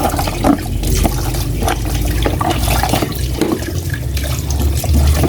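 Water runs from a tap in a steady rushing stream, close and fairly loud, with small splashes and clatter mixed in.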